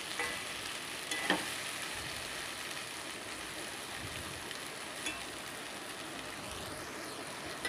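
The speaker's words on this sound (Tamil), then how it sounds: "லைட்டாக கிண்டி விட்டு கொஞ்சம் நேரம் விடுங்க. ஒரு 4 நிமிஷத்தில் நம்மளுக்கு வெண்டைக்காய் வதங்கி வந்துடும்." Sliced okra stir-fries in a pan, a soft continuous sizzle with a few faint clinks of a spatula stirring, quiet and steady throughout.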